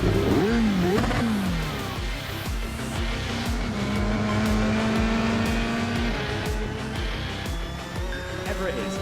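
The number 3 black race car laps a circuit, its engine note rising and falling through gear changes in a loud, sustained drone, heard together with commentary.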